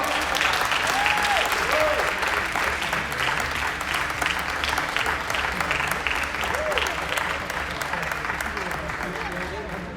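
Sustained, dense applause from a crowd honoring the doubles finalists at a tenball tournament prize ceremony, steady and loud for the full stretch, with a few faint voices mixed in.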